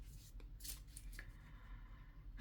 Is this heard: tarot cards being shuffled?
yes